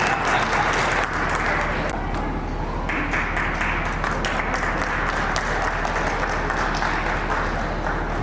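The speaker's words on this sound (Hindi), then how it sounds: "अरे तालियां बजाई बाबू तुम लोग।" Audience clapping at a school Holi gathering and honours ceremony, a sustained, fairly loud applause from a crowd with some murmuring voices mixed in.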